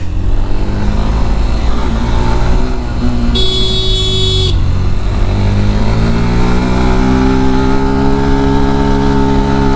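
Motorcycle in second gear climbing a steep hill road toward Keokradong, its engine droning steadily and rising slowly in pitch, with a brief high buzzing tone partway through. It is loud and close, with no talk.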